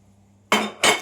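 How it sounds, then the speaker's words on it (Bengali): Spiced mixture being tipped into a bowl, heard as two sharp clinks of hard bits striking the bowl about a third of a second apart, close and fairly loud after a quiet start. "মশলা গরম হয়ে গেছে, এবার আমি একটা পাত্রে ঢেলে নিলাম।"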